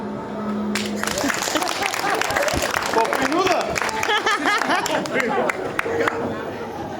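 Applause and clapping from a comedy show audience, a busy crowd patter mixed with chatter and laughter that builds and holds over several seconds, while a voice speaks briefly over it.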